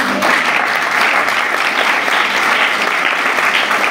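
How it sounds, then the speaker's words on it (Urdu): A church congregation in Pakistan breaks into loud, sustained applause, many hands clapping together at close range for several seconds with no talk over it. "واہ، تالی بج سکتی ہے؟"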